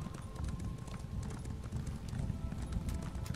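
Horse hooves clip-clop steadily in The Elder Scrolls Online, a quick, even rhythm of close thuds that runs the whole way through.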